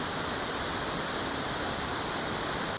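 A waterfall in a forest near a foggy hillside campsite roars as a steady, even rush of falling water, continuous and fairly loud with no voices.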